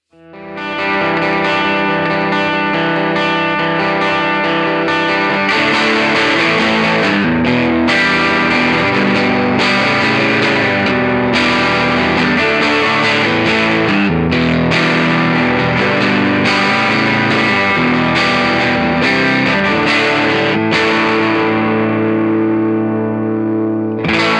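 Heavily distorted electric guitar through a Mooer preamp plays continuously and loudly, thick and saturated with a wide, chorused shimmer and no voices.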